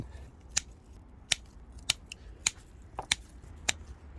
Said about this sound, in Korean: 소독된 가위로 이렇게 아주 간단하게 잘라버리면 됩니다